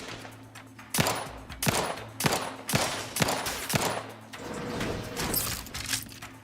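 Pistol gunfire in the video game The Outer Worlds 2, a run of about seven sharp, close shots fired at an uneven, fairly quick rhythm, followed by a burst of rattling impacts and clatter.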